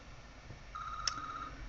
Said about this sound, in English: phone's ringing, however.